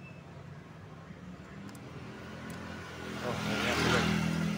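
A Honda PCX 160 scooter with a faulty speedometer is started for a test; its engine idles low at first, then revs up louder toward the end as a voice speaks briefly.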